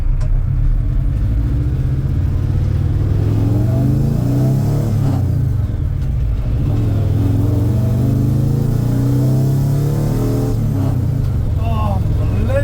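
A lifted VW Beetle Baja drives along with its engine rumbling and revving through rising and falling gear changes, loud and close throughout, while people talk over the engine noise.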